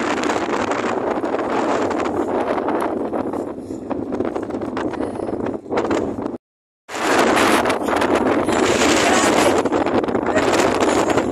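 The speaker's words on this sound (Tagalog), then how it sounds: "Grabe, ang lakas ng hangin sa tulay" Strong, steady wind roaring and buffeting the microphone on the Tseung Kwan O Bridge, Hong Kong, in light drizzle, with a brief dropout midway before the gusting rush resumes just as loudly.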